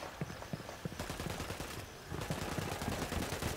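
Rapid gunfire bursts from Ghost Recon Wildlands, a tactical shooter, with sharp repeated shots and a denser, louder barrage in the second half, close and sustained without talk.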